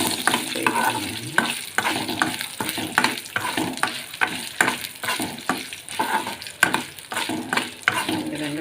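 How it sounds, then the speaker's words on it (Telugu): Cumin and dried red chillies frying in hot oil as a tempering for gongura chutney, a constant crackling sizzle broken by repeated scraping stirs of a spoon in the pan, close and loud with no talk. "పోపు మాడిపోకుండా ఇవి మంచిగా వేగేటట్టు వేసుకున్నామండి."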